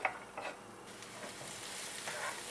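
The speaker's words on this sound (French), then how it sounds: "On va maintenant faire revenir les oignons. Donc je mets un peu d'huile d'olive. On y met le demi-oignon." Half an onion frying in olive oil gives a faint, steady sizzle with a light stirring scrape near the start, continuous and alone without talk.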